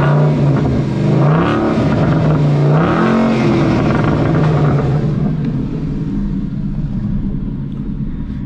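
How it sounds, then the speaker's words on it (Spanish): Ford Mustang Boss 302 Laguna Seca V8 with four exhaust outlets, revved hard twice in close succession with rising and falling engine pitch, then settling into a deep loud idle rumble. "tiene cuatro salidas de escape, lo cual hace que se sienta y se escuche hermoso este coche"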